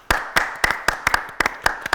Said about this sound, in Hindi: तो मोहसिन के लिए तालियां।